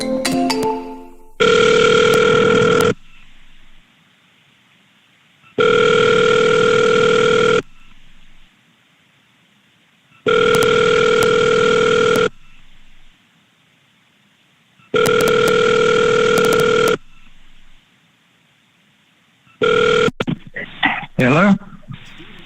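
An outgoing telephone call rings repeatedly, four long even buzzing rings spaced by pauses and a fifth cut short as the line is answered, loud and close, with a brief voice and handling noise at the end.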